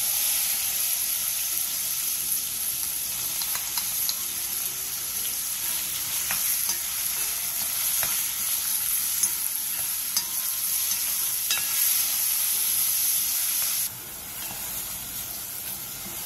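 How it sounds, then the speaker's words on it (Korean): Pork shoulder and onion stir-fry in a pot with sesame oil over high heat, making a steady, close, hissing sizzle with faint scraping stir sounds that continues throughout and eases slightly near the end. "냄비에 참기름 1스푼 반과 앞다리살, 양파를 넣고 고기의 삐끼가 사라질 때까지 센 불에서 볶아주세요."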